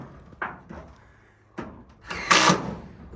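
Screws driven into wood while framing a shed in Alaska, a few short separated knocks and thuds followed by a louder burst of power-tool whirring near the end, no talk.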